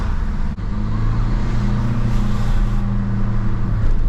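A steady, low diesel engine drone from inside a Renault Megane 3 Coupe with a 1.5 diesel 130 hp engine, accelerating, with road noise holding constant throughout and no talking.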